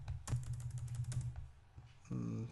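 Rapid, close keystrokes on a computer keyboard as Java code is typed during a programming lecture, a dense clattering burst that thins into scattered taps before a steady hum.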